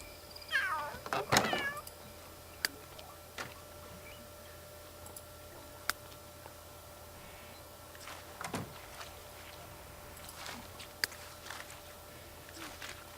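Cats meowing in The Sims 3, one burst of meows early on, then faint scattered ticks and clicks over a quiet game hum, with no voices.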